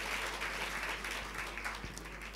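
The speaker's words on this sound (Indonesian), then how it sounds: "Boleh tepuk tangannya di-extend buat para worship leaders dan musicians." A church congregation applauds its worship leaders and musicians, a soft, continuous patter of many hands heard from a distance and sustained for a couple of seconds.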